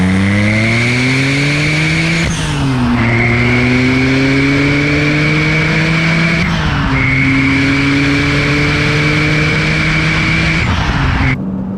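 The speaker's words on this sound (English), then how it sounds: "the exhaust tone of the 355, hands down, is" A Ferrari 355 with a Tubi exhaust revs hard and loud, climbing through three rising pulls with sharp shifts between them, a sustained high-pitched wail up close with no talk.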